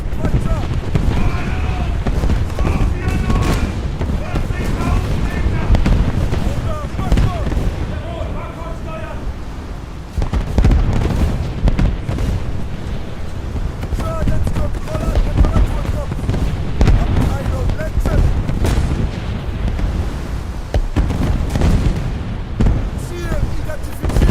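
Battleship secondary guns firing in a naval video game: a relentless barrage of rapid, overlapping cannon booms and crackling blasts, loud and continuous, with a voice talking over it throughout.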